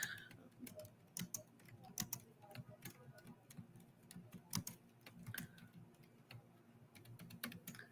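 Quiet, irregular clicking of keys on a computer keyboard, typed in short bursts at close range with faint room noise and no talk.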